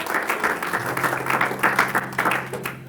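Church congregation applauding during a Spanish-language sermon, a steady wash of clapping from many hands over a low organ or keyboard drone, continuous for the whole stretch and tapering slightly at the end.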